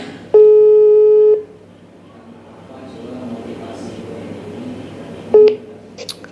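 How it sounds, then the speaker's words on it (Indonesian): Outgoing telephone ringback tone during a call: two long steady beeps about four seconds apart, loud and close, with faint room noise in between. "Ya udah kita telepon Pak Mustaqim dulu ya."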